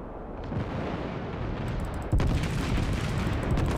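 Heavy battleship guns boom in World of Warships, an Iowa-class target under fire from a New Mexico, with a sustained roaring rumble and a sharp, louder blast about two seconds in that keeps ringing out.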